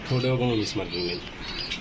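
Pigeons at a busy pigeon market, where short chirps and soft coos rise over nearby people talking through the whole brief stretch.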